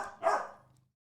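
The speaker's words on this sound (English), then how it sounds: "she needs to learn that like she's not gonna get it by barking" A single dog bark, loud and close, with a brief tail fading into quiet afterward.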